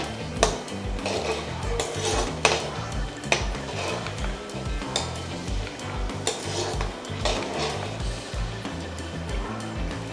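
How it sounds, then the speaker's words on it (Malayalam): Two or three green chillies sizzle in hot oil in a pan while a utensil stirs them, steady frying hiss broken by frequent scraping knocks against the pan, close and fairly quiet. "എണ്ണയിൽ ഇതിങ്ങനെ അകത്തോട്ട് ഒരു 2-3 പച്ചമുളക് ഇട്ട് കൊടുക്കുകയാണ്"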